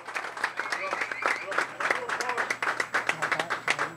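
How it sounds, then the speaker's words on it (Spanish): Crowd applause for a winning cycling team at a 2017 Máster del Cibao championship award ceremony, dense steady clapping throughout with a voice speaking over it. "¡Fuerte el aplauso para los muchachos de Morteros!"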